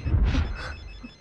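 A telephone bell rings in a film scene, one short muffled ring heard close and alone, with a low rumble under it and no talk.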